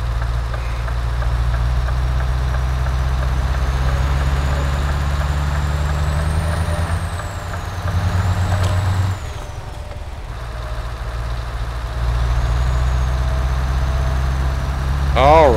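A Scania truck engine in Euro Truck Simulator 2 drones steadily with a low rumble, dipping briefly mid-drive before returning, with a faint tone sweeping in the background and no talking.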